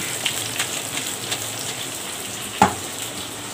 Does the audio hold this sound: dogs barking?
no